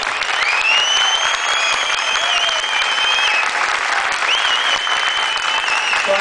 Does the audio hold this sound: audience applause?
yes